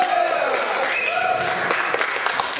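Audience at a magic convention show breaking into applause and cheering, a dense crowd clatter of clapping that fills the room throughout, with voices mixed in.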